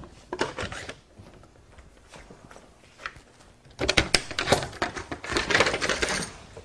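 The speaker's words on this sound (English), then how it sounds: "Unlock these, the clamps." Clamps on a Festool plunge saw guide rail being unlocked after a rip cut through timber: a quiet run of metallic clicks, scrapes and rattles, sparse at first, then a busier cluster of handling clatter near the end.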